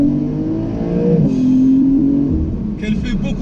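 A Porsche 911 992 Carrera 4S accelerating hard, engine rising through revs in sweeping climbs with a shift break, loud and close with a voice briefly over it.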